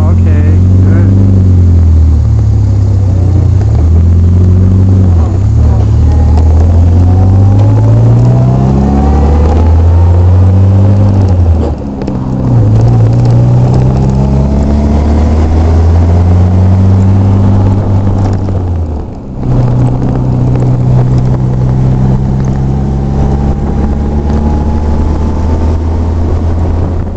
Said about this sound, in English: So we're just going to go for a short little ride around the block just to get her through the gears.